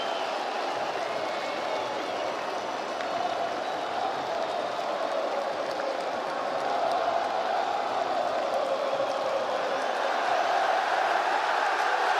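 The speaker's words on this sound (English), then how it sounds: "Listen to the crowd." A large arena crowd roars at a UFC 321 heavyweight bout, Tom Aspinall versus Ciryl Gane, sending up a dense, steady wall of cheering that holds unbroken and swells slightly toward the end.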